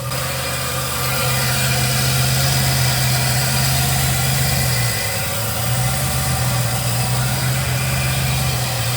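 An old barn-find car engine idles steadily nearby, a deep continuous rumble with a slight dip and recovery midway, no voices.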